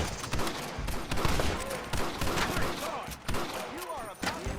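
Gunfire erupts in a Red Dead Redemption shootout: rapid, overlapping shots crack in dense bursts, with ricochet whines and shouting voices over the clatter.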